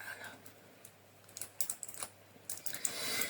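Someone fiddling with stubborn blush makeup packaging, producing quiet clicking and rattling plastic sounds in short bursts, close up, with a bit of faint background noise.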